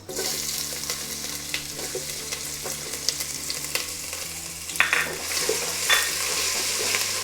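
Steady sizzling of ginger frying in a hot pan over low heat for chicken stew, with occasional stirring scrapes and light clinks throughout.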